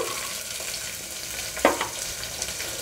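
Chopped broccoli, carrots and green peas frying in a pan for broccoli coconut rice, a steady soft sizzle with one brief louder crackle partway through.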